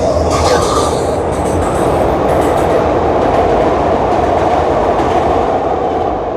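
A train rumbles past steadily and loudly, with a constant roar of wheels on track throughout.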